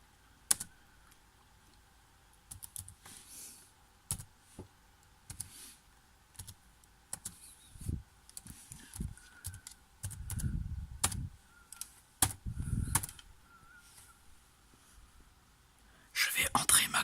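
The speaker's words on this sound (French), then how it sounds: "C'est extrêmement galère de taper sur un clavier avec un seul doigt" A computer keyboard is tapped one key at a time with a single finger, producing sparse, irregular clicks up close, while a soft whispering voice talks quietly in between.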